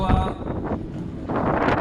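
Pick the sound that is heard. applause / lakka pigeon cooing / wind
wind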